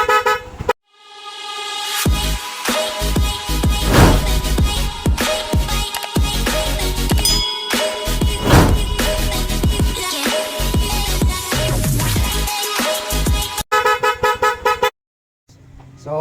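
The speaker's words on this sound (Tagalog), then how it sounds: "Install tayo ng mini driving, saka loud horn, stock horn, saka loud horn with passing." A loud horn with passing fitted on a Barako motorcycle sounds in long, blaring honks, then a quick burst of rapid stuttering toots before cutting off, close and loud throughout.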